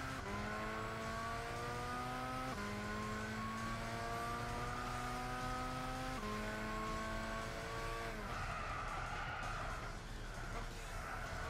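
A race car in Gran Turismo 6 drifts around a corner, its engine whining and revving upward through several gear shifts, then breaks into rougher tyre squeal and skid noise near the end.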